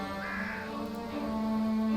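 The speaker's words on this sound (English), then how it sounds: "A dying crow. Not much life left in it." A dying crow in the video game The Last Door gives a drawn-out, strained caw. The tone holds steady and then grows louder toward the end over a faint background drone.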